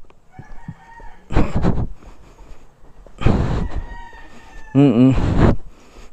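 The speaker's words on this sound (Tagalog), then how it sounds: "Daming manok ah." A rooster crows loudly three times in succession, the last call clear and drawn out, with chickens clucking faintly in between, among many chickens outdoors.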